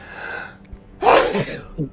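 A single loud, close sneeze bursts out during a Descent Into Avernus tabletop game session, with a short spoken phrase just before it and a breathy tail after it.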